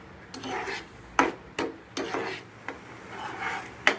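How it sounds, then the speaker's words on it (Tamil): Cooked moong dal and sugar being stirred in a pan for halwa, with irregular scraping strokes and occasional sharp utensil knocks, close and fairly quiet. "சர்க்கரையை ஆட் பண்ணி நல்லா கிளறி விடணும்"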